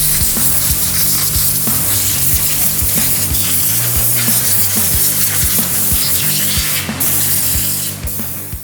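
Compressed air hisses steadily and loudly from a blow gun over a Yamaha Tri-Z motorcycle part in a powder coating shop before priming, a continuous broadband rush with faint mechanical clicks underneath.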